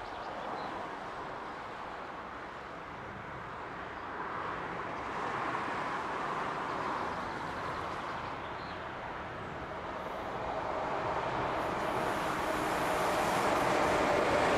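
A locomotive rented to the Polish company PUK passes on a north-south rail line, a steady broad rumble of wheels and rails swelling louder toward the end.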